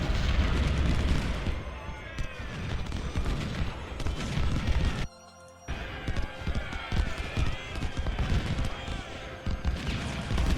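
Massed musket volleys and cannon fire crackle and boom nearly nonstop from units in the Ultimate General: Civil War battle at Malvern Hill, dense and loud, with a brief lull midway before the firing resumes.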